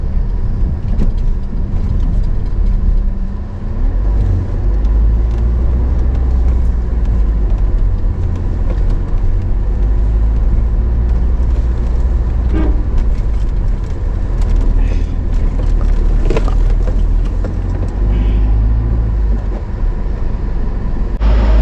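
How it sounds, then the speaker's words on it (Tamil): Heavy road traffic of cars and buses backed up near a landslide on a mountain road in Uttarakhand: a continuous loud rumble of idling and crawling engines, close by and steady throughout. "இந்த இடத்துல தான் ஃபுல் டிராஃபிக்காக இருக்குது."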